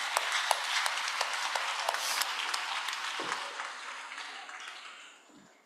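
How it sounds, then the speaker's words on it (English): Audience applause at a planetary health conference, a scattered patter of clapping hands heard from a moderate distance that gradually thins and fades out over several seconds. "So please, a huge round of applause for Dr. Paul and Jess."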